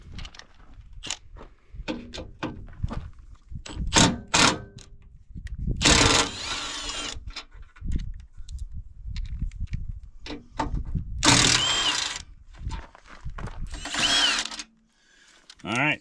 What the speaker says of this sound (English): we need to go ahead and pull out these two bolts right here, and these two, and then the same on the other side